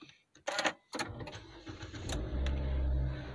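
A Nissan Juke 1.5 engine cranks briefly, then catches and settles into a steady idle hum, heard from close by.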